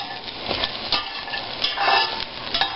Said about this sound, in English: I'm sauteing this until it's soft